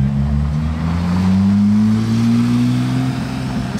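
Ferrari 812 in Monaco, a deep steady engine drone that rises slowly in pitch as it nears and revs, loud and close throughout.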